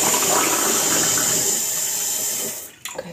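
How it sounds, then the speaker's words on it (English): Water runs steadily from a kitchen sink tap into a container being filled for making boba, a continuous broadband rush that fades and stops near the end, with no talking. "Now I need water. Over to the sink. We're going to fill it up to this line."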